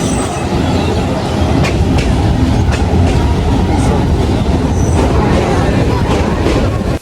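A train between Bhairab and Kishoreganj, near Manikkhali station, is heard from its roof as a loud, unbroken roar of wheels on the track with rhythmic clacks, rushing wind and rattling carriages throughout.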